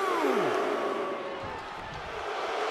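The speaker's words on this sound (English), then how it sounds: "The sound of this crowd is deafening, and he's asking for more." Video game wrestling arena crowd from WWE 2K22, a loud continuous roar filling the background beneath a commentator's voice, swelling slightly toward the end.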